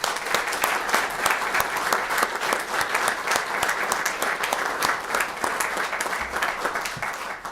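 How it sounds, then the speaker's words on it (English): An audience in a legislative chamber applauds during the Alaska governor's State of the State address, with dense, sustained clapping that stays steady and fairly close for several seconds. "Let's all give Lydia a great round of applause."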